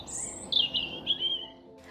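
Bright, high-pitched bird song in a few quick warbling phrases, close by, with faint ambient hiss beneath and no talking.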